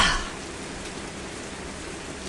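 Steady rain falls outside during a thunderstorm period, a dense even hiss that continues throughout, slightly louder at the very start, with no talking.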